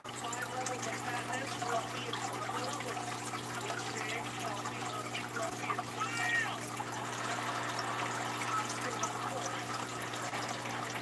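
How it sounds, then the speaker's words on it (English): Water is poured and stirred into a fermenting, smelly culture mix, giving a continuous trickling, splashing wash at moderate level. "mix in a lot more water"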